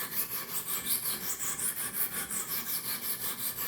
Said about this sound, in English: So I have some more scrubbing that I have to do here.